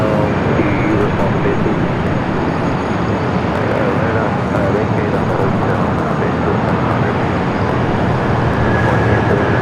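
The Qantas 15 airliner from Brisbane arrives at LAX with a loud, continuous jet roar mixed with airport rumble and distant traffic, while a voice talks over it.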